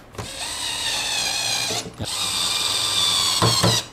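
A cordless driver whirs and ratchets while fastening a long screw into an OSUKA OCGT407 brushless cordless grass trimmer, a loud, close, steady buzz broken by a brief pause and short bursts at the end.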